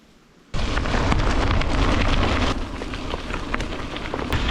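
Heavy rain in a forest cuts in abruptly after a quiet moment, then becomes a loud, dense, continuous roar of drops that eases slightly toward the end.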